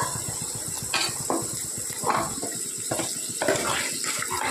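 Water poured into a pan of spiced curry masala with turmeric, cumin and chili powder for a genda curry, a steady sizzling wash with a few brief clatters, close and fairly loud, no talking.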